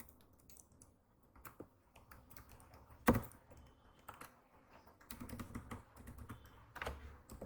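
Typing on a computer keyboard while writing HTML code, irregular bursts of key clicks with a sharp loud clack near the middle, close and quiet with no talk.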